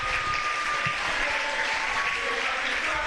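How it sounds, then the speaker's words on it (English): A stadium crowd applauds at the BAFA National League Division 1 American football final, a steady, loud wash of clapping and cheering that fills the whole stretch without a break. "And the crowd absolutely loving it."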